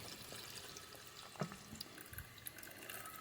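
Water pours into a bowl of ramen noodles with a soft, continuous splashing trickle and a few faint drips, quiet and close.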